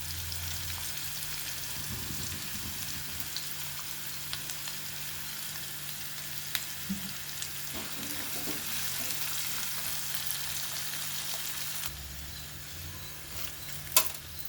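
Green chillies fry in about three spoons of hot oil for a raw mango prawn masala curry. A continuous soft sizzle and crackle holds throughout, with a few faint utensil ticks and no speech.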